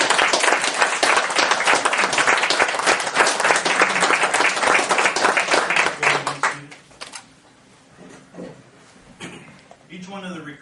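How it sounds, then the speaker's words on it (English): Audience at a volunteer firefighter academy class graduation bursts into loud sustained applause and clapping that fades out after about six seconds, leaving quieter room noise and a few scattered sounds. "So I have a round of applause."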